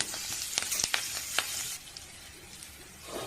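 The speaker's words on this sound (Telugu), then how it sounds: "ఈ పచ్చిమిర్చి కొంచెం వేగనివ్వండి" Green chillies crackle and spit in hot oil, a soft steady sizzle punctuated by several sharp pops early on, quiet and close.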